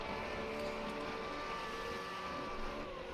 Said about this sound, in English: You can hear a revving of an engine here